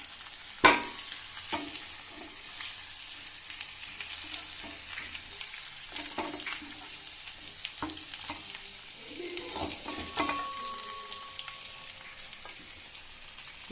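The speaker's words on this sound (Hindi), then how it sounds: "पर ये इसका कच्चापन दूर करने के लिए ये मैंने इस तरह से घी डाल के इनको फ्राई कर दिया हल्का हल्का" Ingredients fry lightly in ghee in a pan while being stirred, a steady sizzle broken by repeated scraping and clinking of the spoon, including a sharp knock early on, with no talk heard.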